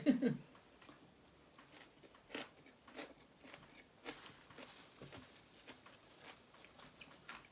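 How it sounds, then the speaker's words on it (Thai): Faint, crunchy chewing of pickled spider flower greens with papaya salad, sporadic crisp bites spaced a second or so apart, close up in an otherwise quiet setting. "เสียงเคี้ยวกรุบกรุบกรุบ"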